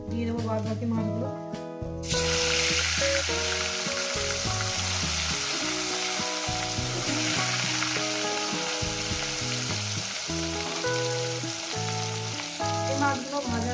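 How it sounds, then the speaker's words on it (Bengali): Pieces of mrigal fish fry in oil, a loud, dense sizzle that suddenly swells after a quiet start and then hisses continuously under background music. "এই মাছগুলো ভাজা হয়ে গেছে, এই মাছগুলো তুলে নেবো।"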